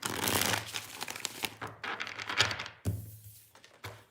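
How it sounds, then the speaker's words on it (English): Tarot cards being shuffled during a card reading: a run of papery riffling and crinkling bursts with short pauses between, close and fairly quiet, with no talk. "2 more shuffles."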